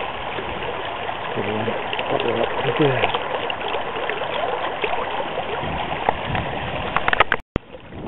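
Water trickles and gurgles steadily out of gopher holes in a grassy park area, a continuous close burble with people talking over it.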